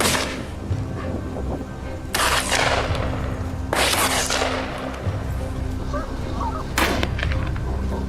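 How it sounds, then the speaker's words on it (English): Gunshots during a wild boar hunt ring out outdoors, loud sharp blasts fired in succession with bursts of roughly sustained fire, separated by quieter stretches of background noise. "Gunshots rang out in succession."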